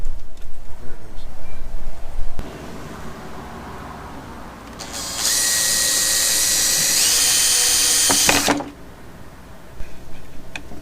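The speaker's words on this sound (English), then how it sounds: "Drilling that close to the radiator" A power drill whines loudly for several seconds, rising in pitch, before cutting off, drilling close to a car radiator during an electric fan swap on a Nissan R50 Pathfinder; quieter rustling and handling noises surround it.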